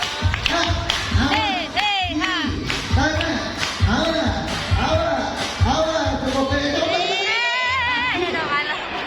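At an ocean park animal show in Ancol, a performing animal claps its flippers on command: rhythmic slapping taps repeat about once a second amid crowd chatter and someone talking nearby.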